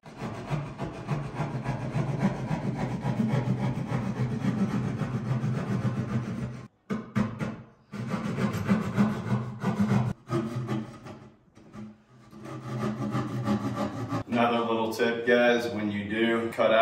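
Drywall being sawn open by hand to cut a large hole near thick framing at the top of a wall, steady rasping strokes running continuously with brief pauses, close and fairly loud, ending in a different scraping sound.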